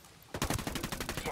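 Rapid automatic gunfire from Ghost Recon Wildlands, a burst of repeated close, loud shots starting after a short quiet lead-in and continuing steadily to the end.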